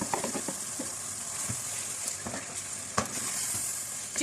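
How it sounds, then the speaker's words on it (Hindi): Marinated chicken with yogurt sizzles and fries in a pan of masala and tomato puree, a steady loud hiss broken by a few sharp clattering stirs. "अब हमारे पास जो मैरिनेटेड किया चिकन है, ये चिकन इसमें डाल देंगे।"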